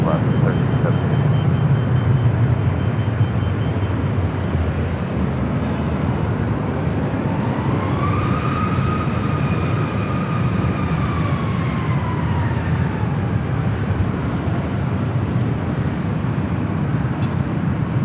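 An airliner landing at LAX, flaring just before touchdown, with a steady loud engine roar and rising, gliding whine under a continuous wash of broad noise, as people talk over it.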